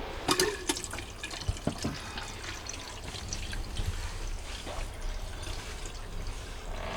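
Water from a Wonder Wash portable washer drains through a hose during RV laundry, a steady close splashing and pouring stream with scattered drips, continuous throughout.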